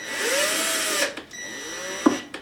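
A power drill whirs steadily at high speed, then winds down and stops with a short mechanical clack near the end.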